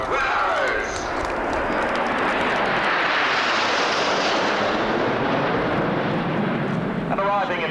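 Red Arrows display team jets arriving in Big 9 formation at an RAF Scampton airshow in 1989, a loud continuous roar of jet engines filling the air throughout, with a faint announcer's voice over it.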